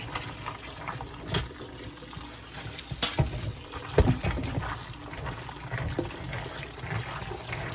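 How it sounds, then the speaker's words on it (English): Pinto beans are rinsed under running water in a small colander, giving a continuous soft splash and trickle with occasional knocks and rattles as they are moved about. "Just rinse them like this."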